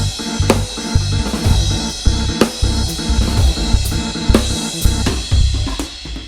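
A funk band playing out of time, with drums, bass and other instruments clashing in a dense, loud, uneven groove, full-band texture with irregular accents and no talk.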